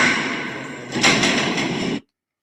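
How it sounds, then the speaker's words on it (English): A heavy metal prison cell door rolls and bangs shut with a loud rattling clang, then sudden silence. "That is the sound of the cell doors slamming."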